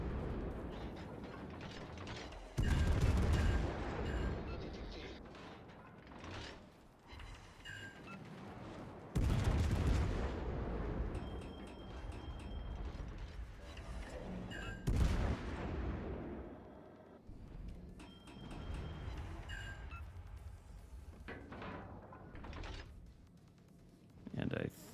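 Naval gunfire in World of Warships: Legends, heavy booming salvos every few seconds with rumbling tails, loud and near, a player talking over the battle.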